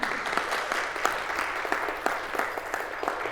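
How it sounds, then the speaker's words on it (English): An audience at a corporate Breaking Barriers event applauds for an executive and her team, even continuous clapping with scattered louder claps, moderately distant and steady. "Round of applause for you and your team."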